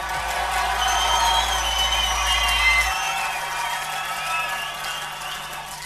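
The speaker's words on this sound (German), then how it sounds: "Gebt euch erstmal selbst einen Applaus." Crowd at a live hip-hop concert applauding and cheering between songs: a continuous wash of clapping and shouts under sustained tones and whistles, fairly loud and steady, no clear speech.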